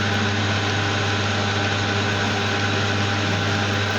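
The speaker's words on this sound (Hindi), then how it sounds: "अब इसके अंदर मैं ड्रिल करने लगा हूँ" A drill bores into the disc bush of a Maruti Alto 800 car, producing a steady, loud motor hum with an unchanging pitch throughout and no talking.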